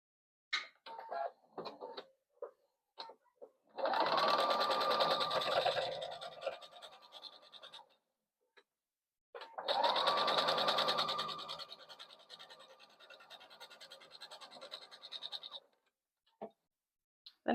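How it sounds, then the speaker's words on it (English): A sewing machine stitching bag lining in two long, steady runs with a faint whine as it starts up, framed by scattered clicks and fabric handling. "We'll just sew this together here."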